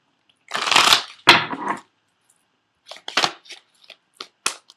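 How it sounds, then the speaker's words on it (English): A deck of Romance Angel Oracle cards is shuffled up close: two loud riffling bursts, a pause, then a run of shorter flicks and taps. "I'm also going to pull 3 cards from the Doreen Virtue Romance Angel Oracle cards"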